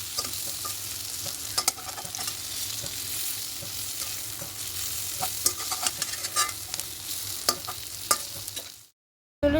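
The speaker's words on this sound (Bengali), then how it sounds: "তো এ পাশটা উল্টে দিয়ে একটু লাল লাল করে ভেজে নেব।" Pieces of lentil dhoka fry in hot oil with a steady sizzle and occasional crackles and pops, close up and fairly quiet, ending in abrupt silence.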